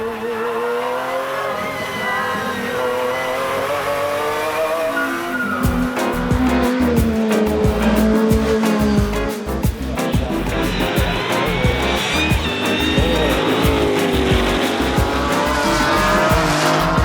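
A street-legal race car screams through a winding track, its engine note rising and falling through gear changes, then tires squeal and chatter repeatedly through the corners, loud and close.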